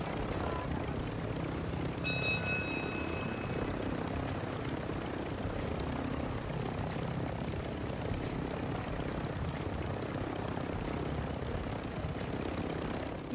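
A chopper in Call of Duty DMZ flies with a steady rotor and engine roar that stays loud and constant throughout, with a brief high tone early on and faint background voices.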